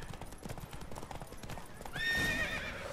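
Hooves clop in a quick galloping rhythm in The Witcher 3: Wild Hunt, then a horse lets out a loud, shrill whinny near the end.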